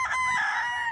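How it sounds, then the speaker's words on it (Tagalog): A rooster at a gamefarm crows once, close and loud, in a short bright call. "500 heads na manok."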